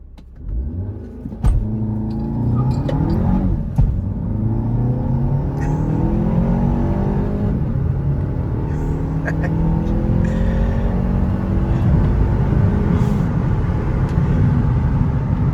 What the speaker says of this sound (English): If I turn the traction control off, yep, we've got launch control.